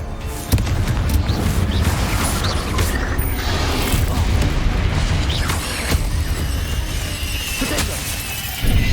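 Confringo blasting spells explode in Hogwarts Legacy with loud, dense crashing and shattering, booming impacts and debris rattling on and off for several seconds, close and heavy, with no speech.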